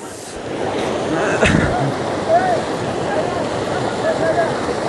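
Water rushes steadily at a water-powered mill, a broad, constant roar that fills the whole stretch, with faint voices and a few higher tones barely showing through.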